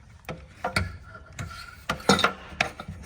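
A wrench turns a bolt out of the idler pulley on a Toro TimeCutter 50-inch zero-turn mower deck, giving a series of close ratcheting clicks and metallic scrapes in uneven bursts, with no talking.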